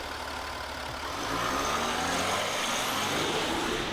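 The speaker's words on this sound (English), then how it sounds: "from the outside, you can definitely tell this is a diesel" A 2018 Ford F-150 Platinum with the Power Stroke diesel idling outside, a steady low rumble close by that swells slightly partway through, with no talk over it.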